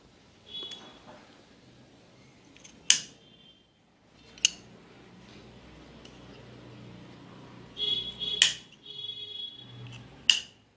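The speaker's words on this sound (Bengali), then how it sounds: "এইভাবে আমরা পুরো নেকটা কেটে নেব।" Scissors snip through fabric along a garment neckline in a series of sharp, separate cuts spaced irregularly, close and crisp against a quiet background.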